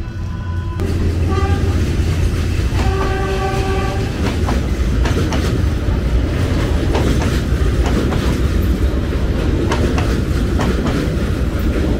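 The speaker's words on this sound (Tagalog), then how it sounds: "Yo. Ang haba na itong train." A long train passing along a street in Hanoi, close and loud: short horn blasts early on over a continuous heavy rumble and rhythmic clickety-clack of wagons rolling by throughout.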